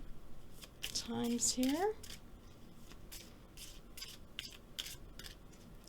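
Oracle cards being shuffled by hand during a reading, a soft repeated riffling and rubbing of card stock that runs under a speaking voice.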